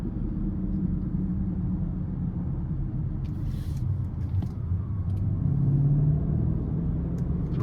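Steady low road rumble inside a 2020 BMW X7 M50i as it accelerates up the ramp onto an interstate, engine and tire drone holding a constant level with a slight rise in pitch near the end.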